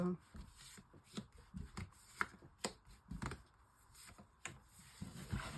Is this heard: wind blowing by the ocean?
no